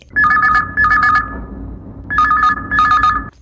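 A telephone rings loudly and close by during a radio phone-in show, in two double bursts of electronic trilling separated by a short pause, with no voices.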